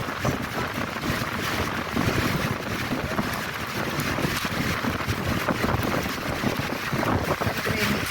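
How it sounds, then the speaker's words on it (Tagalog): Strong night wind during heavy rain roars in a steady, loud rush against the microphone, broad and continuous, with no talking in the stretch. "ang lakas talaga ng hangin guys"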